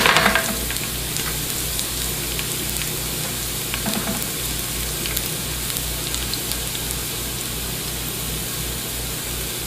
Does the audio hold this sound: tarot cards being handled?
no